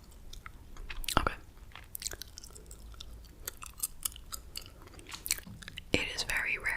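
Gum chewed close to the microphone in a quiet ASMR setting, soft wet smacks and clicks in an irregular rhythm with occasional sharper snaps, faint and intimate.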